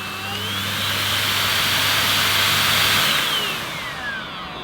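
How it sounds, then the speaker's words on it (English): Numatic Henry Quick corded vacuum cleaner motor running on boost, a steady loud whooshing roar with a whining hum that swells slightly then eases, close and alone. "On boost it is noisier."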